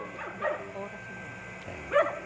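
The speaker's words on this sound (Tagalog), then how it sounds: "Tanging tahol ng mga aso ang ingay na maririnig." A few short dog barks and yips, two louder bursts about a second and a half apart, with some talking in the background.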